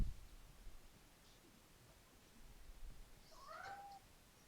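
A cat gives a short, soft meow near the end, rising then falling, in an otherwise quiet room.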